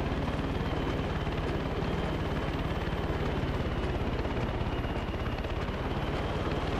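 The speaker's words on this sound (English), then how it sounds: "Unless that's the helicopter there." A steady, continuous helicopter rotor chop with a droning engine in the video game Far Cry 6, constant in loudness throughout, like an aircraft hovering or flying nearby.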